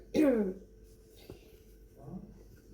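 A single loud throat-clear or cough bursts out near the start, followed by quieter throat sounds and a faint murmur, all close and indoors.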